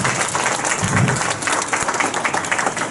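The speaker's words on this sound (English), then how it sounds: "so round of applause for her" Audience at a school orchestra concert breaks into sustained applause, dense steady clapping from a crowd filling the room, loud and continuous throughout.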